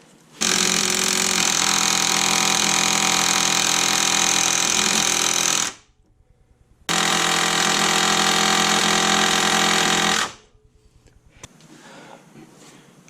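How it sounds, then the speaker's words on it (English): Impact wrench tightening an 18 mm shock nut on a Jeep Cherokee during a shock installation: two long, loud, close hammering bursts of about five and three and a half seconds, separated by a short gap, with quieter clicks after. "So hit this with the impact again."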